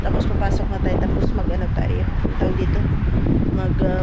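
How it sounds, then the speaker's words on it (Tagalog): Strong outdoor wind buffets the microphone with a constant loud rumble and roar, while people talk over it close by. "As you can see, masyadong mahangin ngayon."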